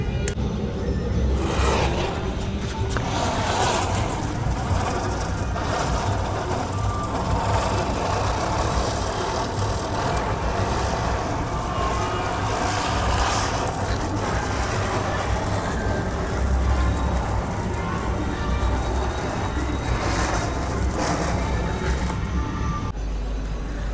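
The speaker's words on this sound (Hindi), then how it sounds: "तो चलो अभी ये चक्कर जलाते हैं, जो बड़े साइज़ का चक्कर है।" A large ground spinner firework burns with a continuous loud hissing, sputtering rush for about twenty seconds, fairly close and steady throughout, at Diwali.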